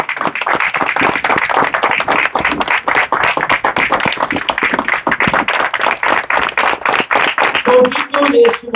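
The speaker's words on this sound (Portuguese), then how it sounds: "Uma salva de palmas ao nosso acadêmico Dr. Henrique Alves Pereira." Audience at an academy induction ceremony for a new academician claps loudly and continuously in a hall, a dense sustained round of applause with a brief voice surfacing near the end.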